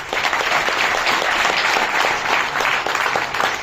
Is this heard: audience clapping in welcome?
yes